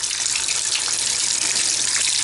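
Water gushes steadily from a Moen single-handle faucet with a 1225 cartridge, its aerator off, as the lines are flushed; a loud, continuous broadband rush with no talking.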